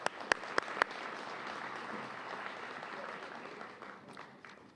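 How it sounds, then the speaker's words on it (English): Sustained audience applause at a Black History Month gala in Bloomington, opening with a few sharp, close claps before settling into a steady, even wash of clapping from a large room that fades slightly at the end. "Give me another round of applause, please."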